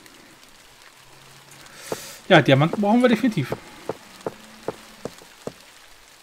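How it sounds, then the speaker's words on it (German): Steady rain falls in the Minetest MineClone5 game world, a faint continuous patter running underneath, while a person speaks in the middle and soft clicks tap at regular intervals. "es ist immer noch Regen"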